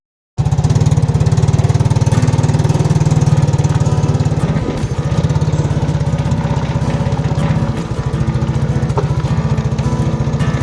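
A vehicle engine chugs loudly through its exhaust pipe in a fast, even putter, close by and continuous, dipping slightly in strength partway through before steadying again.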